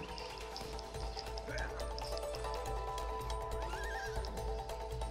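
In a video game, a horse neighs loudly and whinnies in a bright wavering call, joined by faint animal bleats and game music, while players talk over it.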